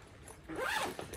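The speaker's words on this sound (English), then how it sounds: "We'll zip this up." A zipper closes a compartment on a Swissdigital backpack in one short, quiet pull, close by.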